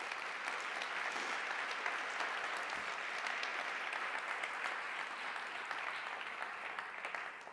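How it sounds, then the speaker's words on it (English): An audience at an evening business talk applauds in a steady, even round of clapping that lasts several seconds, heard from a distance and filling the room without a break. "I would like a round of applause for Vincent"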